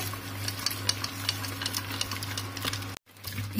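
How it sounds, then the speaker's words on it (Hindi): Mutton haleem mashed in a pot with a wooden masher, a quick, steady run of soft thuds and clicks under a constant low hum, cutting off briefly near the end. "इसको डालने के बाद भी घोटते हैं हम इसको अच्छे से।"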